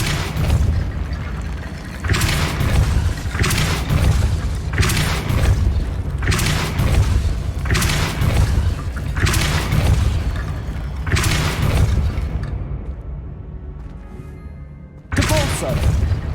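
Depulso spells cast in the Hogwarts Legacy video game, a series of heavy booming thuds, about seven, repeating roughly every second and a half to two seconds, loud and close, with a brief quieter gap before a final hit.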